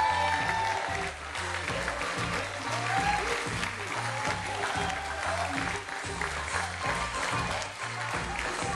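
Wedding guests applaud steadily as a bridesmaid and usher make their entrance at a reception, the clapping sustained over a strong rhythmic beat of dance music throughout.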